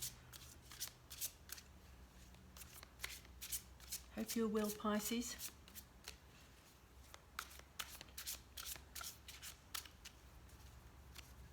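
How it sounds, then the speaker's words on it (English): Repeated riffling and shuffling of a tarot deck, brisk and close, with a short spoken line breaking in midway. "I apologise for the shuffling noises."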